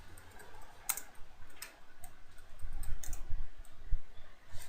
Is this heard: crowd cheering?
no